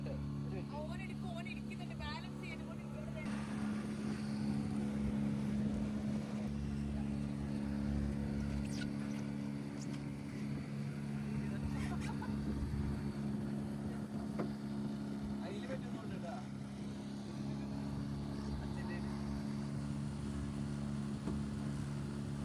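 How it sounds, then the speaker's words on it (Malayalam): A glass-bottom boat's engine running at sea off Lakshadweep gives a steady, low droning hum throughout, with voices talking over it and faint wind buffeting. "ഞങ്ങളങ്ങനെ ഗ്ലാസ് ബോട്ട് സ്റ്റാർട്ട് ചെയ്തിട്ടുണ്ട് കേട്ടോ"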